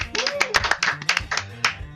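Podcast hosts clapping for a guest, a handful of close, sharp claps in an irregular burst with a voice briefly underneath.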